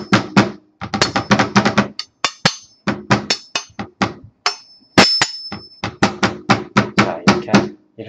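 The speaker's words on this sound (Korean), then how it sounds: "이제 이게 좀 연해야 되기 때문에 이 칼등으로 이렇게 두드려줍니다." Repeated hard knocks of a knife's spine pounding a thick pork cutlet for tonkatsu on a cutting board, loud and close in quick irregular bursts with brief pauses, no talking.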